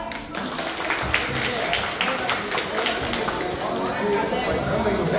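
Applause from a group at a Vietnamese high-school class reunion in Ninh Binh, a steady wash of clapping filling the whole clip with voices mixed in under it.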